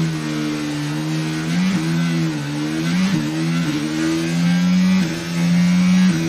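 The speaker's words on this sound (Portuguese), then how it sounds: "Sobe o giro dos motores. Vamos pra largada. Largou!" Formula 1 car engines in the F1 22 video game rev at a race start, a loud, close, continuous droning roar with repeated pitch rises and drops as throttles are blipped, with no voices.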